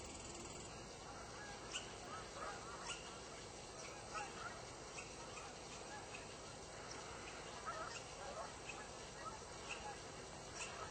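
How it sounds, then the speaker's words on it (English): Geese honk faintly and intermittently in the distance across open Yellowstone wilderness, the scattered calls sitting just above a steady outdoor background hiss. "You can hear the geese."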